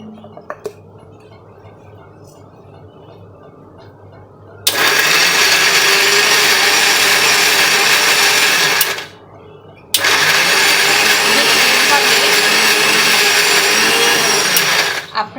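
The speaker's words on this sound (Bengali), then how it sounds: "তো আমি ব্ল্যান্ড করে আপনাদের দেখাচ্ছি" An electric blender whirs loudly through two long bursts, blending a mashed vegetable bharta, with a brief pause between runs and quiet room sound before the motor starts.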